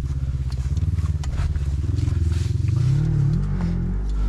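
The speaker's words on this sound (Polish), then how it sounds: "Ale ten wydech, co to jest? Ten wydech to jak od samochodu." Low rumbling idle of a Suzuki LTR 450 quad with a loud, car-like aftermarket exhaust, a steady close throbbing that swells slightly toward the end, with no talk over it.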